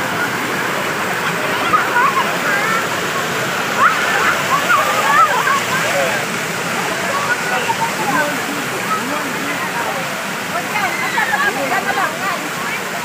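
Flowing stream water rushes and splashes along the Wong Lung Hang country trail near a picnic site in Hong Kong, a constant close babble with chattering voices mixed in the background.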